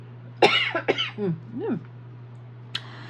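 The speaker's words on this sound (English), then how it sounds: "excuse me, I got a cough." Several harsh coughs in quick succession, close to the mic, followed by a brief throat clear after a pause, over a low steady hum.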